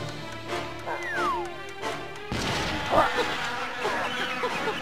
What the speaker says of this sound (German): Tatsächlich eine Biene.